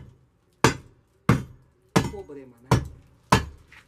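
A hand tool chips rotten mortar off a concrete slab, striking five sharp, loud blows at a steady pace about two-thirds of a second apart. Someone speaks briefly between the impacts.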